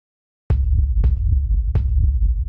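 Three deep kick drum hits sent through a convolution reverb in Ableton Live, spaced about a second apart, each bloomed with a reverb tail and softer echoing thumps between, with a continuous low rumble.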